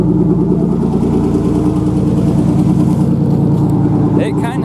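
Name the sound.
1995 Ford Ranger V6 idling with custom dual exhaust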